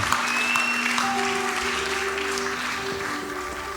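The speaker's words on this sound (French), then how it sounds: "On applaudit le roi des rois." A church congregation claps for the King of Kings during worship, dense steady applause mixed with sustained tones from music or voices, loud throughout.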